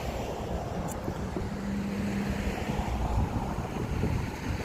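Fast, aggressive tidal current churns far below Deception Pass Bridge, a steady broad rushing wash mixed with wind buffeting the microphone, continuous and moderately loud with no voices.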